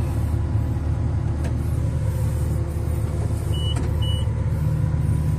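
Kobelco excavator engine running at raised RPM, a steady loud rumbling drone with a constant low hum and no clear rise or fall, along with faint whines and a couple of brief clicks.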